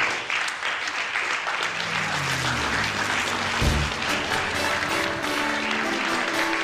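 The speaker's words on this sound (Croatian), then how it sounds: "Jedan veliki aplauz, izvolite." Audience at the Miss Croatia beauty pageant breaks into a big round of applause after a recitation, dense and steady clapping filling the hall for several seconds without a break.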